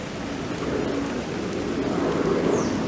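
Steady rain falls on a vegetable garden in late June, a close, even hiss that runs unbroken for the few seconds with no voice over it.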